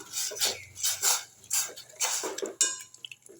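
A spoon stirs sambar onions, ginger-garlic paste and tomato in a cooking pot for a mudakathan keerai soup, giving a run of close, rhythmic metallic clinks and scrapes.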